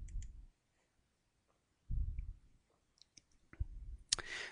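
Soft computer mouse clicks come in a few scattered, faint taps amid low rumbling handling noise, quiet and close, with no speech.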